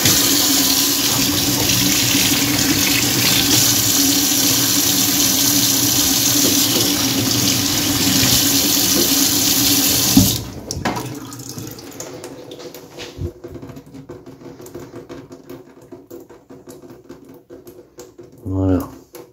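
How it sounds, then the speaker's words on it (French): Tap water runs steadily and loudly into a sink to rinse a blown-out hen's egg, a continuous gush for about ten seconds before it is shut off, leaving faint handling clatter and a short rattle near the end. "on va passer un petit coup d'eau après"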